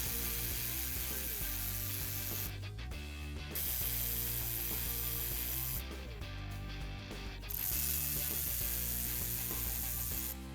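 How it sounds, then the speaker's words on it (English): A ratchet loosens the four bolts holding the fuel rails to a Gen III HEMI supercharger, rapid pawl clicking in repeated bursts with brief pauses, close and fairly quiet, no speech. "Remove the 4 bolts that hold the rails to the supercharger."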